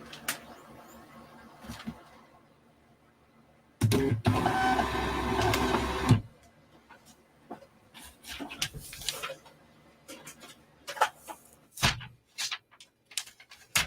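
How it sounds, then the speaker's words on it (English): A desktop printer runs a steady mechanical burst for about two seconds, with quieter clicks and ticks before and after it in a quiet room. No one speaks. "Wrong printer."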